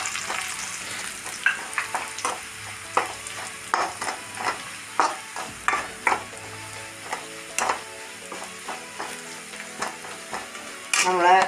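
Shallots and chilli flakes fry in oil in a pan for an Amaranth-bean stir-fry, a steady close sizzle broken by regular scraping stirs, with a louder burst of activity at the very end.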